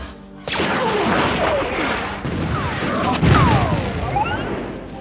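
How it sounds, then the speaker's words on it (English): A dense film-scene sound mix of spaceships, explosions, gunshots and Foley forms a continuous loud roar with sweeping spaceship pass-bys and a heavier blast near the end. "You'll hear spaceships, explosions, and stuff, shots like that."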